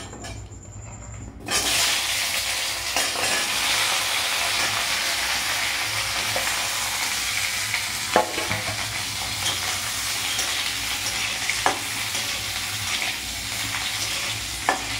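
Potatoes fry with turmeric in a hot pan, giving a loud sizzling hiss that bursts in after a short quiet start and carries on steadily, with a few soft clinks of a spoon and no voices over it.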